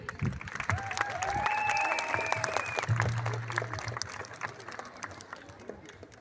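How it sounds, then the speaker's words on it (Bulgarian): An audience at a school farewell ceremony claps, moderately loud and continuous, with a few voices and a brief tone heard over the applause. "Аплодисменти, благодарим ви."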